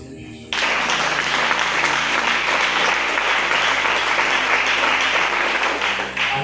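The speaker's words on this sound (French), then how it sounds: "Acclamons le Seigneur Jésus." A church congregation bursts into sustained loud applause for Jesus during a service, dense clapping and cheering starting abruptly and holding steady to the end.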